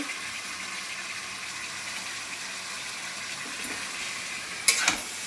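Onion being fried with carrot and potato in a pan, a continuous soft sizzle with light stirring scrapes and a brief sharper clatter near the end.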